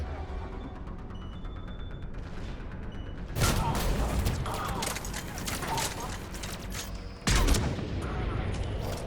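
Bursts of gunfire in Mass Effect 3 crackle through dense combat noise, two loud volleys several seconds apart over a low game ambience, with someone speaking briefly.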